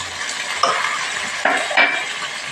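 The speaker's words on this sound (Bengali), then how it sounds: "আন্দাজ মতো লবণ এগুলোকে একটু ভালো করে ভেজে নেব" Tomato with turmeric and salt frying in a pan, a loud continuous sizzle broken by a few sharp scrapes of a spatula stirring.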